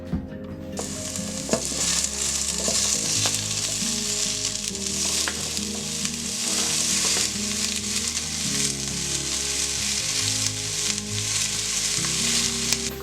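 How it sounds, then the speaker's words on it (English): Seeded, chopped tomatoes sizzling in a hot pot with basil for a cast iron pizza sauce, a loud continuous close frying hiss with scattered stirring scrapes and no voices over it. "These tomatoes that we have now seeded and cut up, we are gonna throw right into the pot"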